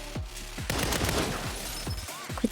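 Repeated gunshots in Saints Row, several sharp separate blasts over a busy game backdrop, loud and close, with no talk.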